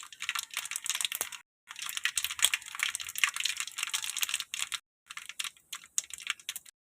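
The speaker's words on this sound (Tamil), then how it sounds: "கடுகு பொரிஞ்ச உடனே" Mustard seeds spluttering in hot oil with shallots, garlic and curry leaves for a Tamil kola urundai dish: dense, rapid crackling and popping in close bursts with two brief pauses.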